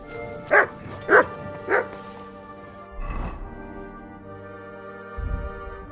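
A dog in the medieval video game Kingdom Come Deliverance 2 gives three short, close barks in quick succession, followed by low thuds and game ambience.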